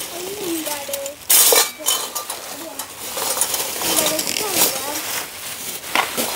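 Plates being handled, clinking and clattering in several short bursts, with one louder clatter, under intermittent talking nearby.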